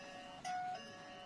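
A Tuya Wi-Fi smart lock sounds its doorbell button: one short, clear electronic chime tone, quiet and close, set against a faint steady hum.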